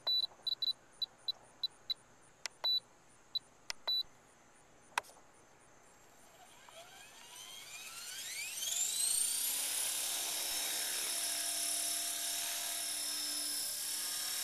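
An EXI 450 RC helicopter sounds a string of sharp setup beeps, then its rotor spools up into a rising, high-pitched whine that settles into a loud, steady full-throttle drone.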